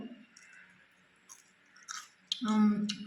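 Crispy fried fish is chewed close to the mic, soft crunching bites building to a louder burst near the end, with brief voice sounds around them.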